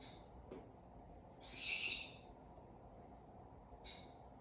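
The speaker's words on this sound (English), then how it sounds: "That background you hear is our bird." A pet bird lets out a few short, shrill calls in the background, a couple of quick chirps and one longer squawk over a quiet room.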